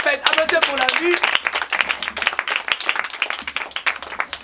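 Children clap together in a fast, uneven patter that runs on for several seconds, fairly close, beginning under a spoken voice.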